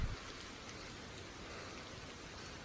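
Steady rain falling around a hiker on the Pacific Crest Trail, a soft even hiss of drops with no speech, after a brief low thump at the very start.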